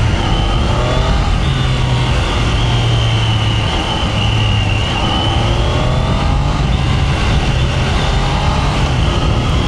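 A Triumph Daytona 660 inline three-cylinder sportbike drones loudly and steadily while being ridden, its engine note shifting slightly in pitch under constant wind rush, with no pauses.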